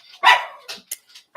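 Dogs bark in a handful of sharp bursts, one loud bark followed by a few shorter, quieter ones with brief gaps between, close by in a home with no voices.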